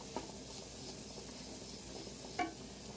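Bitter gourd and egg fry with turmeric and chopped coriander mixed in a pan, a faint continuous sizzle with a couple of soft spoon scrapes.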